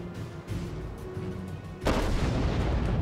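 Warship guns in the naval game World of Warships fire a heavy boom partway through, followed by a loud, rumbling roar that sustains over a low background drone.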